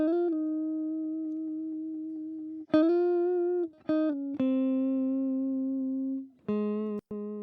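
Clean sustained guitar notes under Ko-fi compression ring out evenly at a soft level, with a few sharp plucked attacks and brief gaps between held tones.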